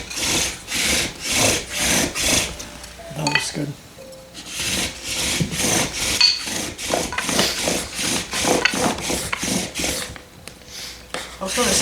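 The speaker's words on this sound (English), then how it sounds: "The lazy bow drill's not much pressure." A bow drill spindle is worked back and forth on wood with light pressure, producing rhythmic rasping rubbing strokes at a steady pace, each swell clear and close, with a brief pause partway and people talking over it.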